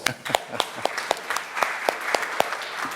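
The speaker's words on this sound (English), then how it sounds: "let's give the panel a midterm applause" Sparse, scattered clapping from a small audience at a regional Asia-Pacific forum session in Muscat, with individual sharp claps standing out in an uneven rhythm for a few seconds.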